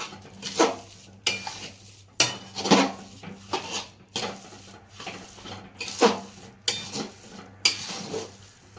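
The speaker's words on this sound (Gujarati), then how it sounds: "ઉપર નીચે કરી બધું સરસ મિક્સ કરી દેવાનું" A spoon scrapes and clanks repeatedly through a thick gond pak mixture in a metal pan, in uneven close strokes roughly every second, with no talk.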